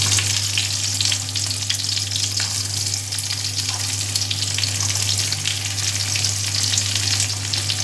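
Onions fry in a pan for beef kaldereta, giving a loud, dense, continuous sizzle close up with a low steady hum beneath and no talking.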